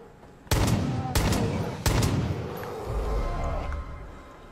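Three sharp pistol shots bang in Far Cry 5, spaced about half a second apart, loud and close, each leaving a short echoing tail, followed by low ambient rumble.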